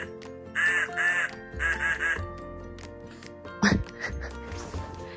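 A toy-like electronic duck quacks from a children's sound book in a few quick bursts, followed by a brief clack and quiet rustling.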